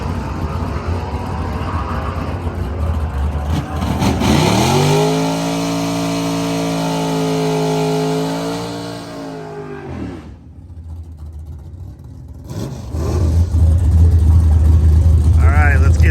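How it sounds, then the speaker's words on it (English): Twin-turbo street car with a boost controller accelerating hard down a drag strip, engine note rising and holding loud for several seconds before cutting off, then rumbling again at close range. "dealing with a twin turbo street car with a boost controller is a little bit stressful"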